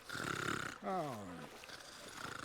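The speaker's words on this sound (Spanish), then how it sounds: "¿Qué es ese ronquido?" In the Western video game Call of Juarez Gunslinger, a character snores in a deep, rasping intake followed by a wheezing, whistling exhale, with game dialogue around it.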